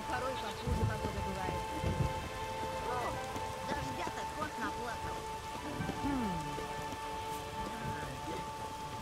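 Steady rain falls in The Witcher 3: Wild Hunt, a continuous hiss of drops with occasional low rumbles of thunder, and a soft tonal game background underneath.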